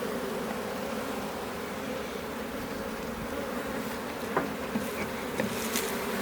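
Honeybees swarm and buzz around an open wooden beehive, a steady dense hum filling the scene close by, with a few louder passes of individual bees near the end and no voices.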